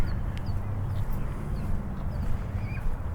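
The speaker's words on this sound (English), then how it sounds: "you hear a lot of ducks quacking across the street." Ducks quack across a fishing lake at a park in Tempe, the calls faint and scattered over a steady outdoor rumble of distant traffic and wind.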